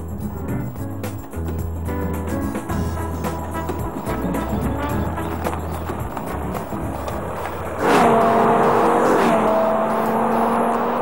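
A BMW M5 E60 sedan's 507-horsepower V10 engine drones steadily, then revs sharply and loudly near the end, a high-pitched rising roar.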